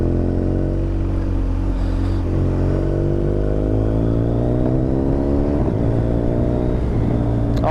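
Steady, loud riding noise on a BMW R1250GS motorcycle fitted with Michelin Road 6 tyres, a continuous engine drone and tyre roar with wind, rising gradually in pitch as it speeds up.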